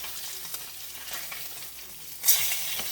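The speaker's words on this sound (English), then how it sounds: "I'm going to also flip this fish now." Peanut-coated tilapia frying in a pan sizzles steadily at a low, even level, with light scraping as the fish is flipped and a sharper, brighter burst of sizzle near the end.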